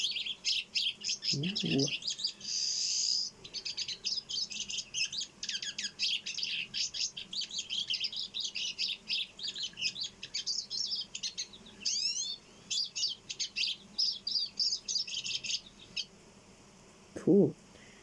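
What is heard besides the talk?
pine siskin song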